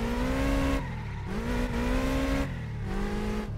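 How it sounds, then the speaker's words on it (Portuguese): A car drifting in a video game, its engine revving in sustained rising and falling tones with squealing tires, loud and continuous with brief dips between pulls. "Não, tamo fazendo drift com o carro aqui,"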